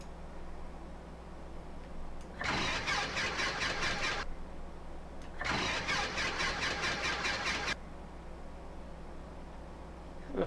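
An aircraft engine in Microsoft Flight Simulator cranking over in two separate attempts, each a couple of seconds of rapid rhythmic chugging, over steady cockpit noise and with no talking.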